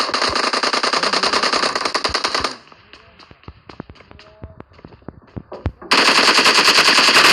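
Automatic gunfire from the video game PUBG Mobile rattles in loud rapid bursts, breaks into scattered single cracks and thuds, then resumes as another dense sustained burst.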